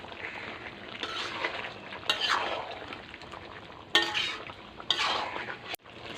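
Spatula stirring chicken kosha in a pan with cumin and ginger paste, with steady scraping and a low sizzle and several sharper clinks of the utensil against the pan, close up and with no talking.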